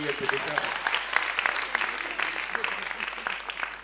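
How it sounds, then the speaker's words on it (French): Audience applause at a Gabonese stand-up comedy show, a dense steady patter of many hands clapping with a few sharper claps standing out, filling the room at moderate level with faint voices mixed in. "on applaudit pour les chiens de l'île"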